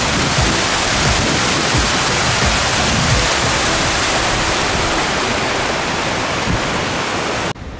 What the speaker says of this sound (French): d'un côté et avec une belle coulée d'eau.